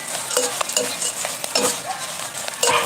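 Grasshoppers frying crispy in a pan, stirred with a utensil: close, busy sizzling with scraping and clinking stir strokes throughout, no talk.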